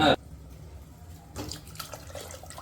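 Water splashes into a pressure cooker holding mutton for gravy, starting with a short sharp splash, then an uneven, gurgling pour that swells again partway through.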